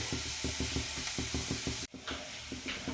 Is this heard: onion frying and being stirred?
yes